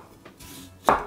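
A knife slices ginger on a board: two soft cuts followed by one sharp, louder chop near the end, close and alone.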